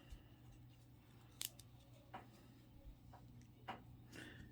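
Scissors snipping through crochet yarn after a key fob holder piece is finished, a few short crisp cuts standing out against a quiet background.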